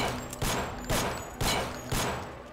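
Four evenly spaced gunshot bursts from the Deus Ex video game, each a sharp broadband crack with a short decaying tail, fired in a steady rhythm at a security camera, loud and close with no talk.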